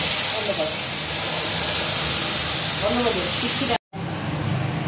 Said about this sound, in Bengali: জিরে আদা লঙ্কা পেস্ট করে নিয়েছি। এটা এবার তেলে দিয়ে দেবো